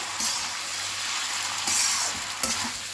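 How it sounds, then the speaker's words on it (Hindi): Chow mein noodles being stir-fried with spring onion and coriander stems, a steady close sizzle with a few louder tossing and scraping bursts across a few seconds. "तो इन दोनों को भी चाउमीन के साथ हम अच्छे से मिक्स कर देंगे।"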